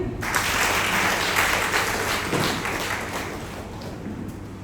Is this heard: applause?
yes